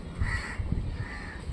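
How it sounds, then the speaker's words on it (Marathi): Several crows perched in a tree caw in short, overlapping bursts over a steady outdoor background, fairly close and clear. "झाडावर भरपूर सारे कावळे बसले तर बघा"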